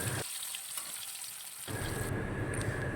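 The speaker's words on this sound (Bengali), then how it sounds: "ওর জন্য ওই রুই মাছটা এক পিস ভেজে দিয়ে দেওয়া হচ্ছে" A piece of rui fish fries in a pan, a brief close sizzle that swells louder partway through, with no voices.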